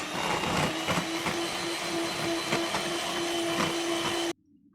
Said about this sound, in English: Now we'll just whisk it again to a smooth consistency.